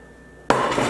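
A stainless steel 10-inch fry pan from a cookware set being set down or handled, one sharp metallic clank halfway through with a short ringing decay, close and alone.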